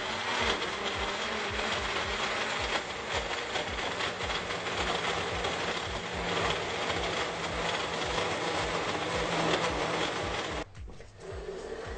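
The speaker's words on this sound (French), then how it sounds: "je vais utiliser mon Magic Bullet, mais vous pouvez utiliser un mélangeur normal ou un batteur électrique" A Magic Bullet blender runs steadily, its continuous motor whir dense and close for most of the stretch before cutting out briefly near the end.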